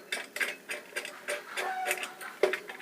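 Spanner working the brake nut on a bicycle during an overhaul, a run of close metallic clicks and ratcheting ticks in an uneven rhythm, with no talking.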